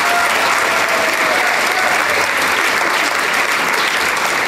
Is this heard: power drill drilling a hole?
no